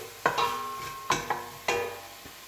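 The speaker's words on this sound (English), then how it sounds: "So the onion's cooking down nicely." Onion and garlic cook down in a pan, with a soft sizzle under several sharp stirring knocks of a utensil against the pan, spaced irregularly and fairly quiet.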